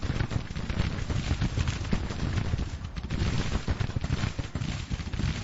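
Massed musket volleys and cannon fire crackle continuously in a Grand Tactician: The Civil War battle, a dense rolling rattle of distant shots with no talk over it.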